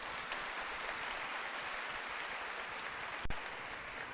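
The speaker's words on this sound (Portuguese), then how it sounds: "Então vamos aplaudir os bons espíritos." An audience at a spiritual talk applauds, a steady wash of many hands clapping at moderate distance that carries on throughout.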